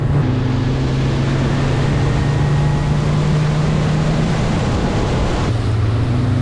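Loud, steady drone of a Yamaha F50 four-stroke outboard on a Quintrex Explorer 420 boat getting up on plane, with rushing water and wind, the engine pitch holding high then shifting near the end.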